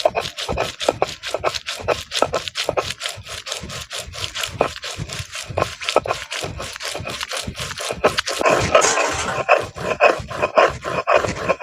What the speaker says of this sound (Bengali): এখন এই মশলাগুলো বেটে নিচ্ছি কাঁচা লঙ্কা নিয়েছি আর আদা রসুন নিয়েছি একসঙ্গে সবগুলো বেটে নেব